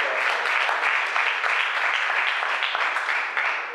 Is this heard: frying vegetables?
no